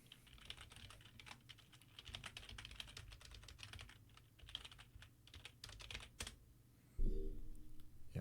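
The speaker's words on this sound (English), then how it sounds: "type your NVIDIA's account email in this tab" Someone types an email address on a computer keyboard, with quick soft key taps in an uneven run. The typing is faint and close, and a brief louder knock follows near the end.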